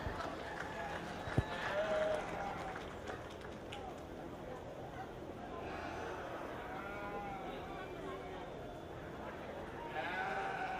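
Ewes bleat now and then in a sheep show ring at a 4-H/FFA fair, faint and distant under steady announcer talk and a busy arena hum.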